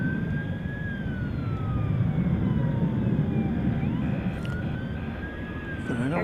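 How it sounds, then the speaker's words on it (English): An emergency vehicle siren wails in long rising and falling sweeps at an airport, distant and steady under a constant low rumble of engine noise and wind. "I hear an emergency siren."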